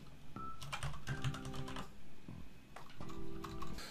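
Fingers type on a computer keyboard while text is entered into an Excel 365 billing worksheet. The keys make quick, close clicking bursts in several short runs separated by brief pauses.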